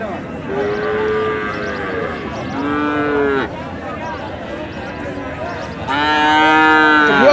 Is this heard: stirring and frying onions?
no